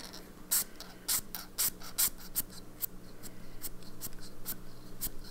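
Pen nib scratching across paper while writing with Jacques Herbin Vert Atlantide shimmer ink, close and crisp, with short bursts of strokes separated by brief pauses.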